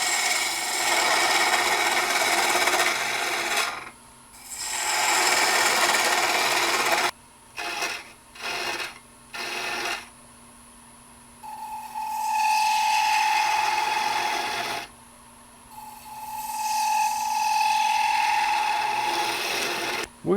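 A spindle gouge cuts into a spinning wooden cone sleeve on a lathe, rough scraping passes broken by short stops and quick touches, then smoother cuts with a steady ringing hum beneath, close.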